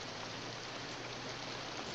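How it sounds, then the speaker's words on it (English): Heavy rain falls in a steady, unbroken hiss, soft and distant, with no other sounds over it, from a 1956 film scene. "there's nothing so good as a real rain"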